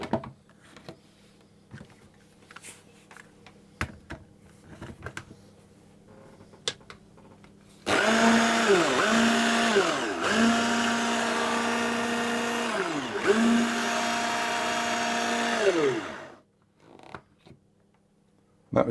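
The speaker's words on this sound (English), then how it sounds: "my sugar and my zest, and I'm going to pulse those just a little bit to get them mixed together" A food processor pulses sugar and citrus zest for a pie, with several loud whirring bursts in close succession over about eight seconds after a quiet stretch.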